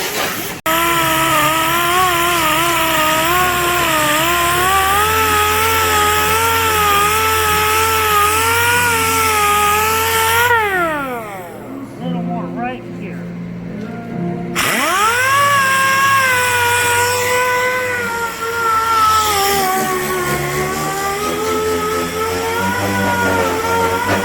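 A power tool cuts through the roof cap of a 1987 Peterbilt 379, a loud continuous whining drone that shifts in pitch as it bites, briefly winding down and stopping before spinning back up to full howl.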